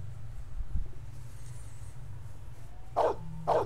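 In the Blade Runner PC game, a dog gives two sharp barks close by near the end, after a quieter stretch of low background hum.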